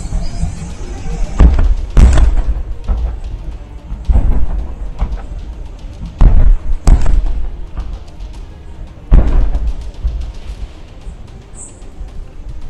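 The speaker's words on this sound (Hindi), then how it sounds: "धमाकों की आवाज मैं आपको भी सुनाऊंगी।" Explosions from a large fire throwing up fireballs, with several heavy booming blasts and thuds spread irregularly over continuous roaring rumble, loud and somewhat distant.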